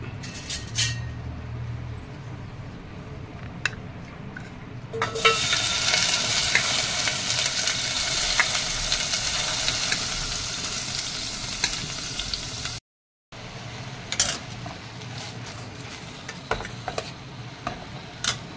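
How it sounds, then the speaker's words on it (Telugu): Paneer frying in oil in a hot pan, producing a loud continuous sizzle that swells after a few quiet seconds. Occasional ticks and clinks from stirring break through, there is a brief gap, and then a softer frying sound continues. "ఇది ఎందుకంటే పన్నీర్ కొద్దిగా మనం వేయించుకుంటే బాగుంటుందండి"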